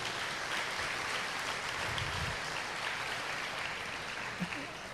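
A church congregation applauds steadily at moderate loudness, a dense wash of clapping that holds evenly for several seconds without any voices.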